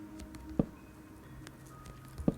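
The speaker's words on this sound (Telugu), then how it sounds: "బాగా వర్షం పడుతుంది," Heavy rain in the Minecraft video game makes a faint, steady patter, with two soft thuds standing out briefly.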